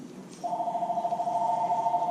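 A home telephone rings in a kitchen, its steady electronic ring tone holding unbroken for most of the brief moment after a quiet start.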